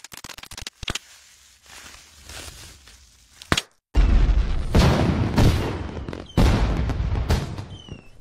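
Fireworks boom in a Sky One TV channel ident: scattered sharp bangs and crackles at first, then a loud run of dense explosive bursts with crackling tails that fills the rest of the clip.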